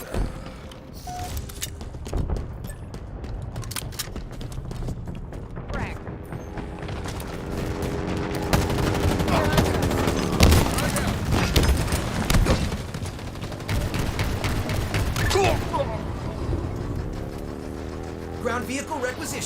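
Rapid bursts of gunfire fill a Halo Infinite cyber showdown match, with dense crackling shots, heavy booms and mechanical clicks running steadily throughout, while a game voice speaks over the action.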